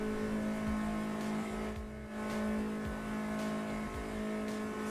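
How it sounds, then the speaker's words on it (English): Race car engine in the Automobilista 2 racing game, a steady loud drone with shifting revs and a brief dip partway through, running alone with no talk. "Engine sound might have changed a little bit."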